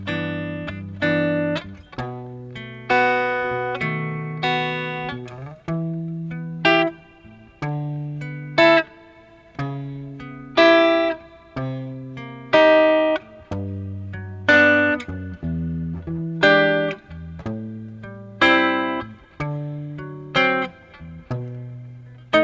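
Guitar works through a song's chord sequence, with added bass notes and a descending walk-down, strummed and plucked chords in a steady, unhurried rhythm, close and clear throughout with no talking.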